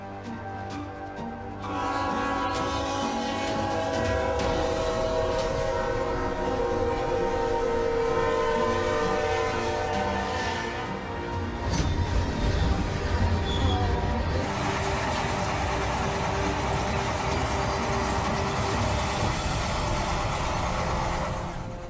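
A train blows its horn in long sustained blasts over heavy rolling rail noise as it bears down on a truck, with a rougher crunching surge midway and the train rumbling on loudly afterward.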